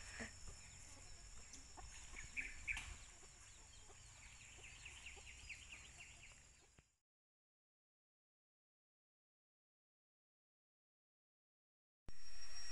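Backyard chickens clucking and chattering as they are fed, several birds close by with scattered calls over soft rustling, then a stretch of silence before a sudden loud burst at the end.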